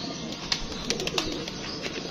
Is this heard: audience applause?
no